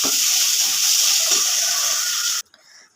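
Food frying in a pan ahead of cooking tilapia with radish and potato, a loud steady hiss of sizzling oil that cuts off abruptly near the end, leaving faint quiet.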